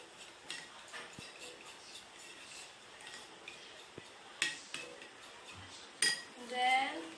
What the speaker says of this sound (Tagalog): Tapos haluin naman natin.